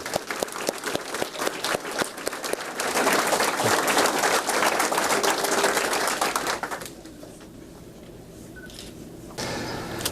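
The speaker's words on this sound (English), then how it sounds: "Let's give them a round of applause as well." Audience applause at an office awards and promotion ceremony, beginning as distinct individual claps, thickening into a dense, loud round, then fading to a quieter room tone as it dies away.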